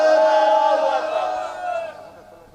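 A crowd of women chants Takbir in response to a preacher at a Bengali religious sermon gathering, a loud massed call with tonal voices that fades within a few seconds.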